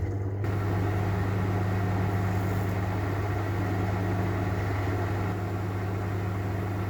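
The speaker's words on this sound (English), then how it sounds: "you're gonna want to test in your microwave to find out exactly how long you need to microwave it for" A microwave oven poaching an egg hums steadily at close range, a constant low drone with a faint whirring fan and no talking.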